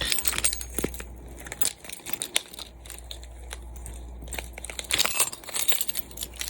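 A bunch of keys jangles and clinks repeatedly up close, with rustling handling noise and a low hum in the background.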